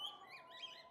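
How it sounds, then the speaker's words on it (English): A small linnet sings outside a window in a short, faint run of high thin chirps and warbling notes over a quiet background. "It was really only a little linnet singing outside his window"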